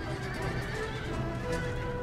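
Horses neigh and whinny amid a cavalry engagement in the strategy game Empire: Total War, layered whinnies over faint hoof clip-clop and battle din, fairly close and sustained throughout.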